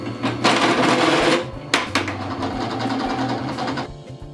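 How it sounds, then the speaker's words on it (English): A step drill bit bores through sheet metal with a loud, grinding whir that surges, cuts out briefly, then resumes as a steady buzzing cut before tapering off. "when you're cutting in this sheet metal, you can use them to self-chamfer and clean up the hole on the backside"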